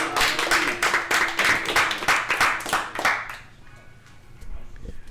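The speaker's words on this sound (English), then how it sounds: "So everyone give him a big old round of applause for Adam." An audience claps and applauds at a live ranking reveal event, a loud burst of many hands that fades out after about three and a half seconds, leaving quieter room noise.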